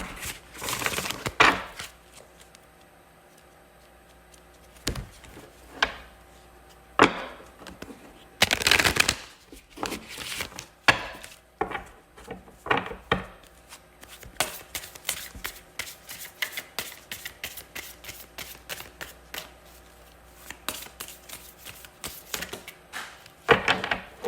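Tarot cards shuffled by hand for a reading: quick riffling bursts and soft slaps, close and fairly quiet, repeating in irregular clusters with brief pauses between.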